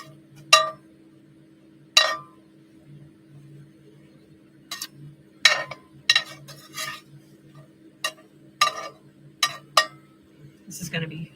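Metal spatula clinking and scraping against a pan while a pizza cooks on an outdoor vanlife setup, about a dozen sharp intermittent taps over a low steady hum, no talking.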